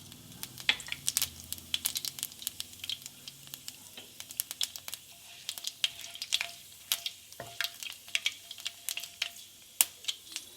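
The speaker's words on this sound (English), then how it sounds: "Once hot, add your bay leaf and Indian 5 spice. Let it splutter for 30 seconds." Bay leaf and Indian five spice spluttering in hot oil in a pan, a steady close sizzle broken by many sharp crackling pops scattered irregularly throughout, with no voices.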